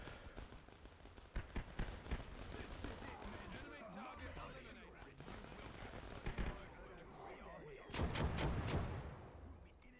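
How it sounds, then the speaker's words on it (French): Artillery fire in a war video game rumbles and booms amid scattered gunfire, with repeated heavy blasts and a dense loud barrage toward the end, mixed with talk. "Je vais demander un appui d'artillerie"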